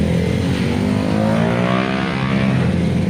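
Honda Raider 150 FI motorcycle engine running steadily up close, a loud continuous hum with layered harmonics that shift slightly in pitch, alone with no talk.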